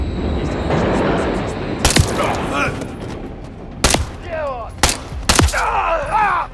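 Sharp bursts of gunfire ring out in a Call of Duty mission hunting Makarov, several loud single shots and short volleys spread across the moment, with voices speaking and groaning between them.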